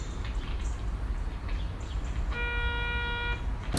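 A French telephone ring tone sounds as a single steady electronic tone lasting about a second, set against a rumbling background of low noise.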